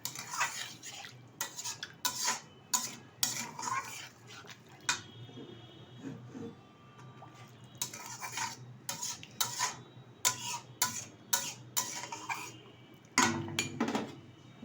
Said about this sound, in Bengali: এবার নেড়ে চেড়ে নিচ্ছি পনিরের সাথে মশলাটা।